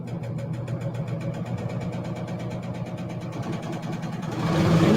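A PFAFF serger running a chain stitch on fabric gives a continuous, fast mechanical whir with a rapid rhythmic chatter. It is close and steady and swells a little louder near the end.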